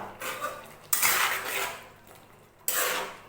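A metal spoon scrapes and clinks against a cooking pot while roasted five-spice powder and sugar are mixed into a milky Bengali sukto, in loud bursts of stirring separated by quieter scraping.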